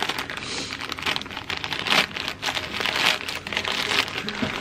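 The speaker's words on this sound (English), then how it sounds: "I'm gonna just start it with my scissors and then I'll rip it" Crinkling and tearing of a subscription box package for spinning fibre, with scissor snips and paper ripping in continuous busy bursts, close and moderately loud.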